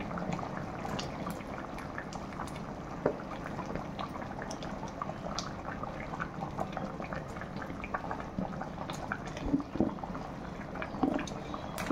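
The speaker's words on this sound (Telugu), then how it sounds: "ఇదిగోండి బాగా ఉడుకుతుంది." Fish curry with tamarind bubbles in a pot, a soft, steady burble of boiling with small pops and drips, heard close and low, no voices over it.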